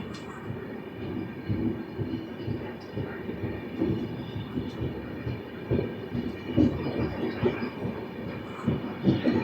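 The Howrah–New Delhi Duronto Express, train 12273, runs steadily past Jasidih Junction, giving continuous rumbling with rhythmic wheel clatter that stays close and fairly loud throughout.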